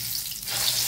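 Eggplant omelette (tortang talong) frying in a pan gives a broad, bright sizzle that swells louder halfway through as the egg-coated eggplant hits the hot oil, with no talk.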